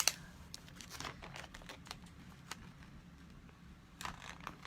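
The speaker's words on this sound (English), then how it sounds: "I'm going to put my transfer tape on here." Clear transfer tape rustles and crinkles as it is handled and applied, a quiet run of soft, irregular crackles and rubs with no voices.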